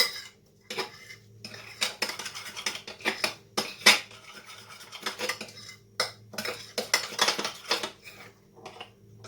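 Cream being mixed in a bowl with a utensil, giving irregular clinks and scraping strokes against the sides, loud and close, in quick bursts with brief pauses.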